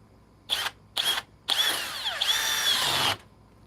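A Hercules drill driver rated 1,200 inch pounds fires in two short bursts, then runs longer with rising, straining whine as it drives a 5-inch lag screw, stopping abruptly.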